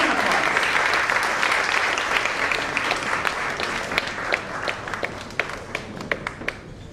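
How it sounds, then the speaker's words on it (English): Audience applause at the Global Awards 2017 ceremony, welcoming the Governor of Maharashtra: dense, sustained clapping from a large crowd that gradually thins into scattered individual claps toward the end. "Let's welcome him with a round of applause"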